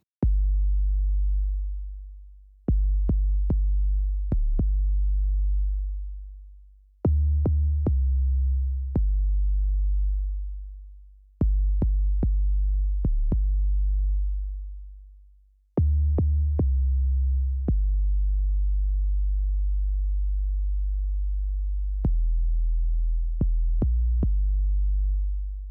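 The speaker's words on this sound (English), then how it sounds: "The preset I used for this bass sound is trap bass and it's made in ES2 synth." A deep, smooth trap bass from the ES2 synth preset in Logic Pro X loops through a lo-fi beat. Its low sustained notes repeat in a steady pattern, heard alone with no drums.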